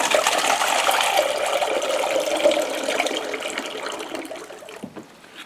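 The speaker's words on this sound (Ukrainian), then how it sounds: "сироп тече самотьоком" Sugar syrup for beekeeping flows by gravity in a steady, rushing liquid stream close by, gradually easing off toward the end.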